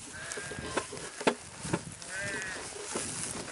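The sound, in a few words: sheep bleating near a spring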